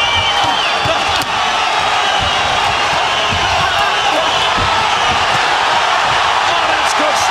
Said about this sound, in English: Crowd rising as they're looking for their hometown champ here in Tucson.